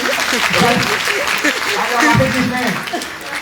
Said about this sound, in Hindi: एक बार सर के जोरदार तालियां हो जाएगी।